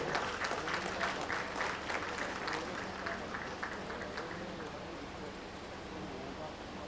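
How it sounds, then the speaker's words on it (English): A crowd applauding steadily, dense clapping that slowly fades a little toward the end, heard from within the audience. "A round of applause for him as he comes forward."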